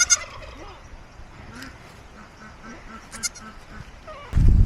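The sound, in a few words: goat calling on a farm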